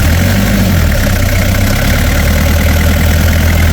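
Old-shape Toyota Hiace Super GL van with a 3L diesel engine idling close by, a steady low rumble with constant vibration and clatter held throughout, with no talking over it.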